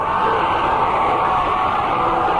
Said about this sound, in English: the Howe crowd is just going crazy